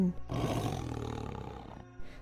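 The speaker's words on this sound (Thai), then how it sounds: "มีเสียงคำรามดังขึ้น" A deep, drawn-out animal roar, like a big cat, serves as a sound effect in a Thai horror story set in a forbidden forest. It is loud and close and fills about two seconds before a short growl at the end.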